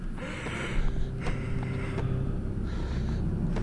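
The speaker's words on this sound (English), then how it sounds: "What is that breathing?" Heavy, gasping breaths sound in the horror video game The Chopping Block, close and ragged over a low rumbling ambience, with a few faint knocks between them.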